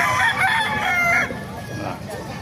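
Kanawayan rooster crowing loudly and close at a busy Bocaue market, one long cock-a-doodle-doo call with a faint voice in the background.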